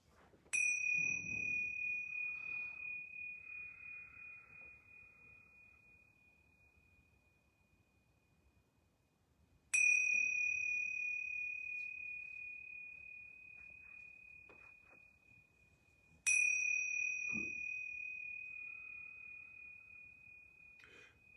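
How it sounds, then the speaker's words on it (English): Yoga bells struck three times in a quiet room, each a clear ringing tone with high overtones that slowly decays over several seconds, spaced roughly seven seconds apart, with faint soft rustling between strikes. "I'm going to ring these yoga bells 3 times."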